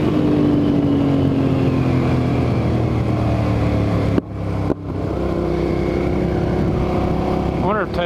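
Steady rushing wind roars inside a motorcycle helmet at riding speed, with engine drone underneath, briefly dropping for a moment before resuming loud and continuous.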